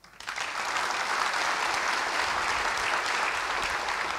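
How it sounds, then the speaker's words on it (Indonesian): A church congregation at a Sunday revival service bursts into applause, rising quickly from a few scattered claps into a dense, steady wash of clapping that holds to the end, moderately loud in a large room. "Coba saya mau dengar saudara kalau semangat tepuk tangannya seperti apa."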